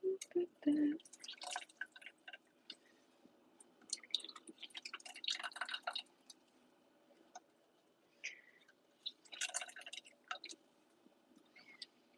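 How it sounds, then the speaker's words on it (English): Soaked soya chunks are squeezed by hand in an Indian home kitchen, so water drips and squishes in scattered, uneven bursts with quiet gaps, close and fairly faint. "squeezed all the water out of these nuggets"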